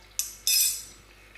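Mustard seeds spluttering in hot oil in a wok: two quick crackling pops, the second louder and longer, fading over about a second in quiet surroundings.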